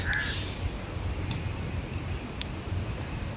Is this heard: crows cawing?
yes